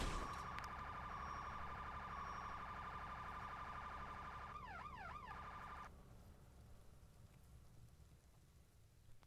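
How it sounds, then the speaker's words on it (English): A fire engine siren sounds in a firefighting video game, a sustained tone shifting into a rising-and-falling wail before cutting off abruptly, over a constant rain-like background hiss. "That's the second due engine just arriving."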